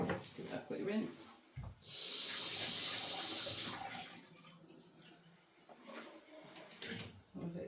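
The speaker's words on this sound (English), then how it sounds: "Just give that a quick rinse." Broccoli rinsed under a running kitchen tap, a steady close hiss of water lasting a couple of seconds, surrounded by quieter handling clatter and splashes.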